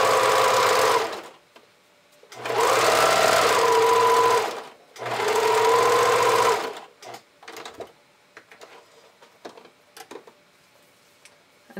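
A sewing machine runs in three loud, close, whirring bursts of about two seconds each while stitching band elastic onto a bra, followed by light handling noises and small clicks as the fabric is moved.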